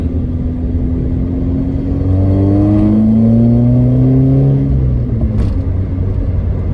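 An Opel Corsa A GSI engine, running rough with misfires, drives at about 40 km/h: a loud, close, continuous drone whose pitch climbs steadily as it revs, then drops away, with no voices.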